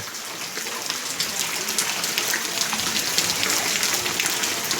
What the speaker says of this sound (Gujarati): વરસાદની સાથે કડાકા અને વીજળી પણ છે